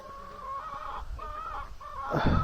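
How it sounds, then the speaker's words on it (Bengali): Two backyard hens on a home smallholding cluck close to the microphone in a run of short calls, ending in a louder, rougher burst. "এই যে আমাদের দুইটা মুরগি"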